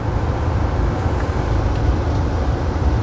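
Car engine running steadily while driving on a road during a driving-licence road test after shifting into second gear, a low continuous rumble with road noise, even in loudness and without talk.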